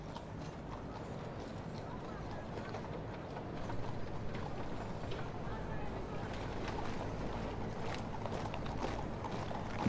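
Horses drawing the King's Troop Royal Horse Artillery gun carriage with a World War I era 13-pounder gun in a state funeral procession, a steady clip-clop of hooves and faint jingling harness over a constant crowd and street hum.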